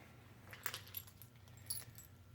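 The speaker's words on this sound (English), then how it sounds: "I got too many keys in my pocket." Keys jangle inside a pocket with a few quick metallic clinks and rattles in short bursts, faint and close by, with no other sound around them.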